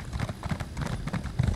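Horse hooves clip-clop at a brisk, steady rhythm while riding in The Elder Scrolls Online, with close, continuous footfalls and no talking.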